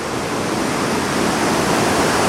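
A river rushes beside a walkway at Machu Picchu, producing a loud, continuous broadband roar of flowing water, steady and close, with no voices.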